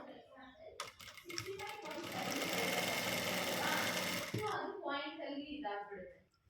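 A sewing machine stitches a blouse, a loud continuous mechanical whir for a few seconds, bracketed by softer clicking and brief talk.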